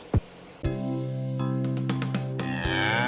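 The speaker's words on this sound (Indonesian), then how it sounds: "Sapi." A cow moos in a long, low, droning call with harmonic overtones, close and fairly loud, rising into a brighter, strained bellow toward the end.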